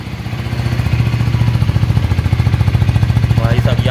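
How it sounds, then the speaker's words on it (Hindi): A KTM Duke 250 motorcycle engine idles in neutral with a loud, close, rapid steady thumping beat that holds throughout. "ये देखिए इंजन ऑन हो चुका है यहाँ पे और न्यूट्रल है और यहाँ पे मैंने स्टार्ट किया"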